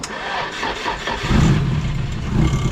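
A car engine cranking on a little Miata battery used as a jump pack, among S13 project cars, a steady close churning crank that deepens and grows louder midway through.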